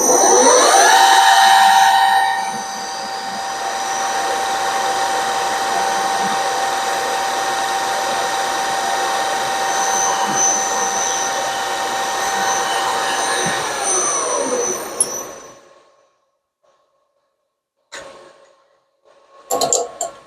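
A loud, steady machine whine with a high tonal hum runs for about fifteen seconds as a center drill bores metal valve chest covers, then cuts out, followed by a few short clanks and knocks.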